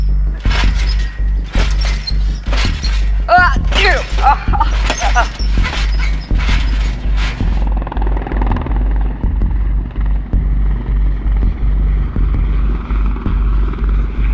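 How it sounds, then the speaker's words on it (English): Loud, close helicopter rotor thumping with whining engine noise, pulsing as it passes low overhead, then a fainter steady rumble remains. "I like seeing the helicopters fly over our heads."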